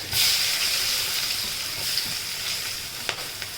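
Chopped onions sizzle in hot oil in a home kitchen, a dense steady hiss with faint stirring scrapes and small crackles, close and continuous without speech.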